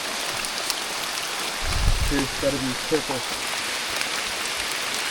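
Heavy rain pours down steadily during a storm on Rinjani, a mountain in Indonesia, as a constant loud hiss with a brief voice speaking partway through.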